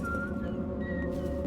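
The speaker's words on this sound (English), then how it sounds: "the tune the guards whistle" Guards whistling a tune in the Dishonored video game, a few soft melodic notes over a steady low in-game background hum.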